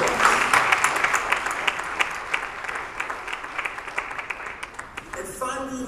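Sustained audience applause fills a church forum hall, a dense, steady patter of many hands clapping that fades slightly before a voice starts speaking at the very end.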